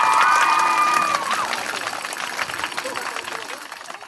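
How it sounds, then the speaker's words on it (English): A cheering crowd sound effect, a loud burst of shouting and clapping that fades gradually over a few seconds, with a short tone-like sound at the start. "Every good news deserves a good cheer."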